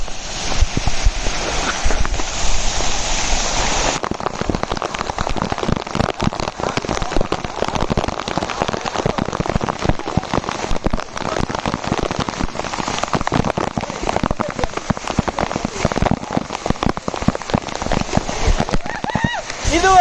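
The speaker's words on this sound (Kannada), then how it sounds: "ಇದು ಎಳ್ನೀರ್ ಫಾಲ್ಸ್ ನೋಡ್ರಿ ಹೆಂಗ" Elneer waterfall near Kudremukh in Chikmagalur roars as a constant, dense rush of water, loud and close throughout, with muffled voices mixed in.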